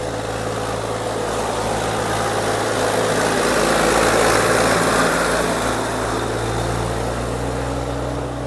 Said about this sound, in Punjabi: ਉਧਰ ਸਾਹਮਣੇ ਟਰੈਕਟਰ ਆ ਰਿਹਾ ਹੈ ਟਰੈਕਟਰ ਰੇਤਾ ਭਰਿਆ ਹੋਇਆ